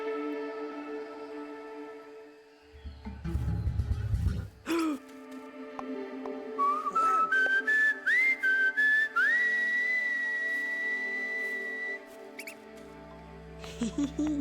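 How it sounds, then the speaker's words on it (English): A cartoonish rat whistles a rising, bending melody in the puzzle adventure game Samorost 3, with sustained pitched notes sliding upward, preceded by a low rumbling scuffle and a sharp squeak, loud and alone. "Why is the rat singing, whistling?"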